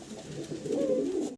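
Fancy pigeons coo in a soft, steady, close-up stream that swells slightly midway and runs unbroken for a moment before cutting off.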